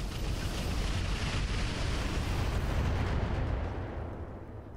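Heavy weapons fire and explosions roar in the mech combat video game Roguetech, a dense, loud, continuous rumble of blasts that rolls on without pause before easing off slightly at the end.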